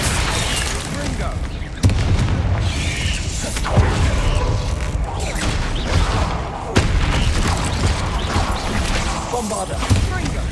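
Bombarda spell blasts in Hogwarts Legacy, loud booming impacts recurring every couple of seconds amid constant combat clatter and whooshes, with sharp bursts near 2 and 7 seconds.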